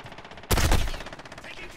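A burst of rapid automatic gunfire erupts in Call of Duty Modern Warfare, a loud close rattle of shots that decays into a fading reverberant tail, with muffled game ambience around it.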